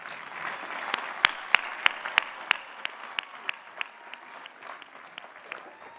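A commencement crowd applauds master's degree recipients at a graduate ceremony, a broad wash of clapping with a few sharp, close individual claps standing out early, steady throughout.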